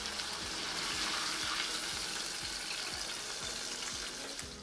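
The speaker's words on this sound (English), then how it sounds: "Fry the mozzarella until golden and crisp." Breaded vegan mozzarella dippers deep-frying in hot oil, a loud, dense, steady bubbling sizzle with faint periodic scraping from a spider turning them, no voices.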